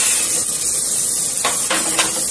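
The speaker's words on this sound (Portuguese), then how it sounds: "agora eu vou colocar aqui o alho para dar uma dourada" Garlic browning in a pressure cooker pan for a tomato and calabresa sausage sauce: a steady, close sizzling hiss with a few brief, sharper bursts of crackle near the end.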